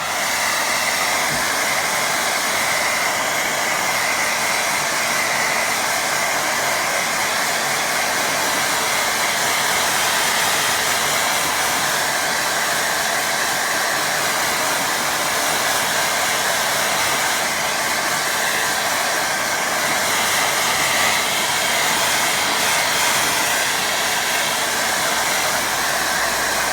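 A hair dryer blows with a constant loud whooshing hiss, running steadily without pause for the entire stretch.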